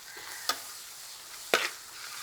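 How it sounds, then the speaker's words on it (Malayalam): Ginger-garlic paste frying in a pan for a quail egg curry, a quiet sizzle underneath two sharp scraping strokes of a spoon stirring it, with no talking. "ഇട്ടതിന് ശേഷം നല്ല രീതിയിൽ നമുക്കൊന്ന് ഇളക്കണം."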